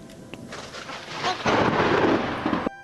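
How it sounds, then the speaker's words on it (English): Deep thunder from a thunderstorm rolls and builds, swelling into a louder sustained rumble midway before cutting off abruptly, with no voices. "The feeling of trembling and helplessness before the uncontrollable power of thunder."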